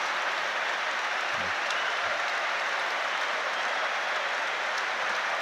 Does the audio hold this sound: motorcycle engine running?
no